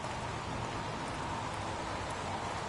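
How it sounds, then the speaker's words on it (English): Heavy rain pours in the PS4 video game Heavy Rain, a steady, dense hiss of downpour that stays level throughout, with no voices over it. "Goddamn rain. Hasn't stopped pouring."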